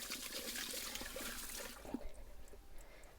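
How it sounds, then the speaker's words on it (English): Water rushes and gurgles through the pipe of a toilet cassette being flushed out, a steady splashing stream that thins to a quieter trickle near the end. "I'll give the pipe itself just a little bit of flush through as well"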